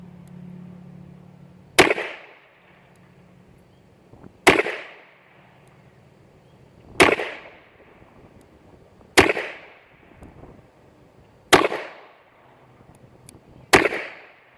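Six sharp, loud shots ring out from an Arminius .32 revolver fired double action, spaced roughly two seconds apart, each crack followed by a short decaying echo.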